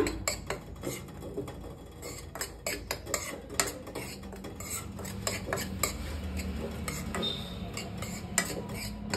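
Wheat flour roasting in ghee in a pan for wheat halwa, stirred with a metal spoon that scrapes and clinks steadily against the pan over a low background hum, close by with no talk.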